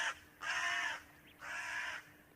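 A crow calls from outside a room with two loud, harsh caws, each about half a second long and separated by a short pause, over a faint hum.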